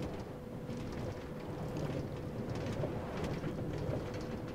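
Steady rain hiss from Minecraft, an even, continuous wash of noise with no talk over it.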